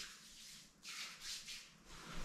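Hands rubbing oil onto skin, a soft broadband swishing that swells in three or four close strokes over steady quiet background, no talking.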